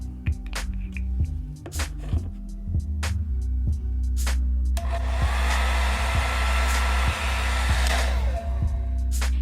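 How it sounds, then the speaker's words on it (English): A blow dryer on a cool setting runs continuously while drying a lace wig, loud and close, with the airflow roar growing stronger and brighter partway through, and brief tapping sounds along with the motor hum. "I'm just going to blow dry that section."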